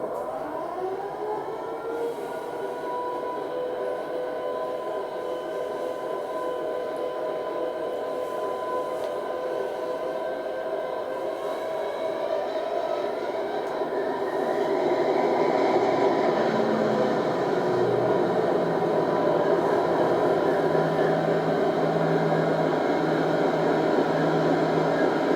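A Loksound V5 XL sound decoder in a Heljan Class 56 model diesel locomotive produces a sustained synthetic engine drone with rising whining tones, growing louder partway through, heard alone through a small speaker.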